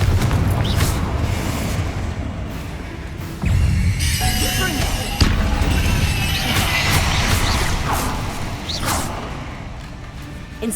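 The Confringo fire spell in Hogwarts Legacy, cast inside catacombs, lands as a whooshing blast with a boom and crackling impact, mixed with game ambience and bursts of spoken dialogue.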